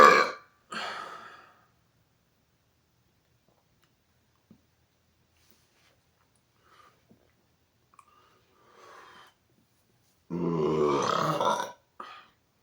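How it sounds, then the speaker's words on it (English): Two loud, close burps, a short deep bassy one at the start and a longer rumbling one near the end, separated by near silence with a few faint clicks and a soft breathy sound in between. "Yet another exhaust burp."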